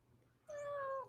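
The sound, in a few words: cat meowing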